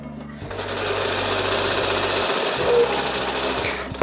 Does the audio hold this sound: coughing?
no